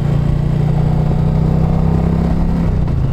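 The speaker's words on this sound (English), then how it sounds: "the exhaust note is not without merit" A 2020 Indian Challenger motorcycle's exhaust note while riding, a steady, loud, low engine drone held at an even pitch with constant rumble throughout.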